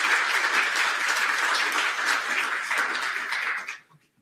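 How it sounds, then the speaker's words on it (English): A room full of people applauds volunteers with dense, steady clapping at close range that holds evenly for several seconds, then stops abruptly into silence. "So big round of applause to all the volunteers in this room."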